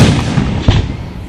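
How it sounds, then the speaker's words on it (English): A single deep firework burst booms over Runyan Lake in Fenton, Michigan, a short, loud rumbling thud with a crackling tail. "No, those fireworks"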